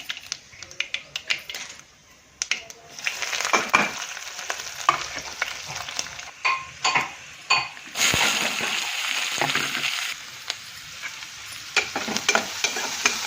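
Onions frying in hot oil with mustard seeds, cumin, garlic, green chillies and curry leaves, a steady close sizzle broken by frequent sharp spatter pops and spoon scrapes against the pan throughout.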